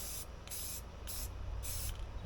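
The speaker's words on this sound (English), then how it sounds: "so I'm going to spray it with some of this Rust-Oleum flat protective enamel," Rust-Oleum flat protective enamel sprays from an aerosol can onto a utility trailer gate assist in a few short hissing bursts with brief gaps between them, close and fairly quiet.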